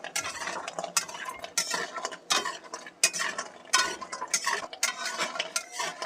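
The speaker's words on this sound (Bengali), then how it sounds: "এটা আমি হালকা ফ্লেমেই ভাজবো, কারণ খুব পুড়িয়ে দিলে তেতো লাগবে" Tomato-lentil dumplings (bori) frying on a low flame, with irregular bursts of clinking and scraping from a utensil against the pan over a faint sizzle, close by with no talk.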